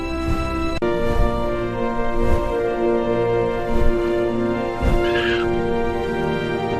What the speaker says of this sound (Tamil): கோபத்தில் எரிந்த காகம் வானத்தை நோக்கி வேகமாக பறந்தது